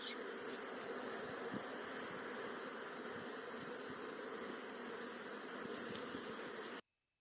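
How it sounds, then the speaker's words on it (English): Honeybees buzzing at the hive outdoors, a dense steady drone of many insects close by, continuous and even until it cuts off abruptly near the end, no talking. "there's just a few seconds of the bees doing their work"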